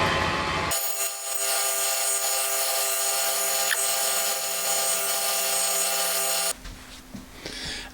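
A metal lathe runs steadily while a 6.2 mm drill bores through a spring centre body of stainless steel, brass or silver steel, a continuous tonal machine whine lasting several seconds before cutting off abruptly near the end.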